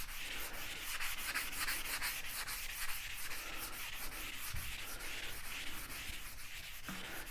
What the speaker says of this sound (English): Got my sanding sponge.